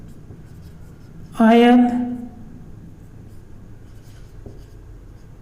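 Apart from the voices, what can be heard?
writing on a board or paper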